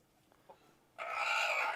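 A couple of faint soft clucks from white leghorn chickens come first, then a loud, sustained rooster call bursts in close by and holds to the end.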